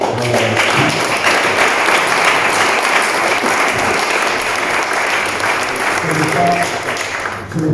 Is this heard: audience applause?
yes